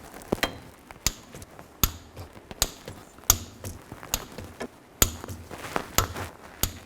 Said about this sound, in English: Now I'm going to torque this to 30 foot-pounds and make sure you torque it in a cross pattern